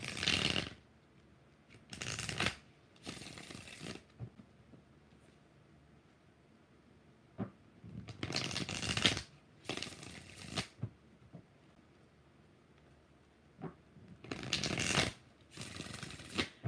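A deck of tarot cards is shuffled in several separate bursts of crisp riffling, each lasting about a second, with quiet pauses between them and a few soft taps; close and fairly loud, with no talking.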